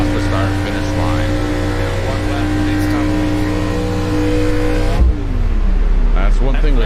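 Race cars in a racing video game drone past the start-finish line, loud sustained engine tones with shifting pitch that sweep and change sharply partway through, running steadily under a commentator's voice.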